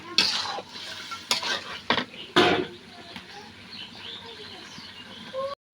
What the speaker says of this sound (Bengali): আমি মশলাটার মধ্যে মাংসটা সুন্দরভাবে কষিয়ে নিচ্ছি